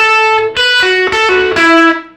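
Electric guitar playing a blues lick, several sustained bent notes separated by short hesitations, loud and close with a slightly effected tone, played alone.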